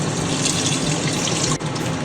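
Steady rushing water pours continuously into a cooking pot, close and fairly loud, a dense unbroken splash with a brief dip near the end.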